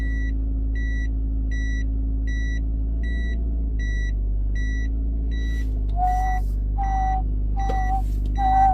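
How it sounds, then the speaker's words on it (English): A Porsche Cayenne's reversing sensor chimes as the car backs toward a wall: evenly spaced beeps over a low engine hum, shifting after several seconds to a different, lower pulsing tone. "JDM backup noise, everybody."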